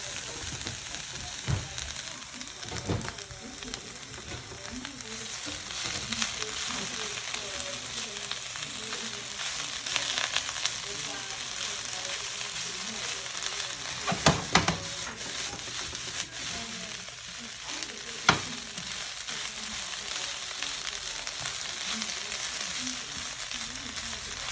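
Kale sautéing in oil with red pepper flakes, a steady close sizzle and crackle lasting throughout, broken by occasional louder clatters and scrapes as the greens are flipped and stirred in the pan.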